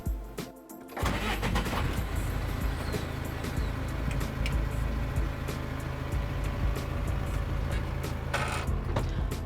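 A passenger bus engine starts and runs as the bus sets off, a loud, steady mid-pitched rumble with rattles right after an initial thump, with no talking.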